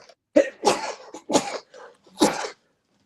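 Four explosive sneezes in quick succession, each a sharp burst of breath, loud and close by.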